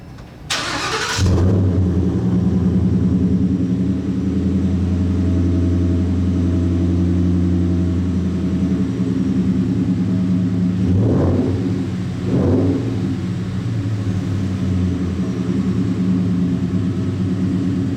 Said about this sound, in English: now let's go ahead and start the Roush F-150